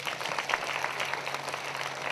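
Church prayer-meeting congregation clapping loudly and steadily, a dense continuous burst of applause for God lasting the whole moment.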